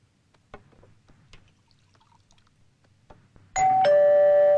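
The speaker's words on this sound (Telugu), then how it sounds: "రింగ్ టోన్ ఏంటన్నా కాలింగ్ బెల్ ఉంది అది కాలింగ్ బెల్లే" An electric calling bell rings in an indoor scene from a Telugu movie. A loud, sustained tonal chime starts suddenly near the end, after a stretch of near-silence with faint shuffling and knocks.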